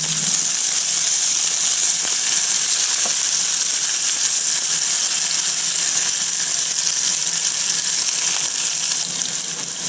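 Onions with salt sizzle in a pan, a loud, steady hiss that holds without a break from start to finish and has no talk over it.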